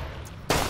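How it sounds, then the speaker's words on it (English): A single abrupt gunshot bursts out from a quiet game backdrop in Hunt: Showdown, loud and close, then rings on as a sustained noisy blast through the rest of the moment. "Pay attention to which gun I'm firing."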